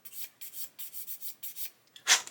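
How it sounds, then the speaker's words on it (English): A sanding stick rubs over a plastic model kit part in a series of quick, short, scratchy back-and-forth strokes, close and quiet, ending with one stronger rasp. "I'm also going to come along with a sanding stick"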